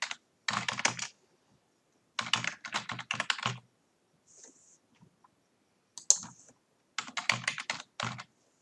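Computer keyboard typing in short bursts of rapid, close clacking keystrokes separated by pauses of near silence, with a few isolated clicks between bursts.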